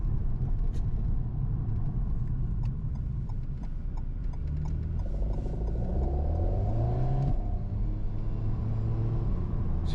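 Alpine A110S sports car engine growling under acceleration, a steady low rumble with rising tones heard from inside the cabin, loud and continuous throughout with no talk.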